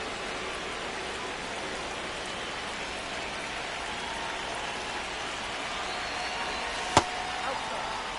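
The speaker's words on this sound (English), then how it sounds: "This rain is not letting up." Steady rain pours down on a ballpark in the MLB The Show 26 baseball video game, a continuous hiss with one brief sharp click near the end.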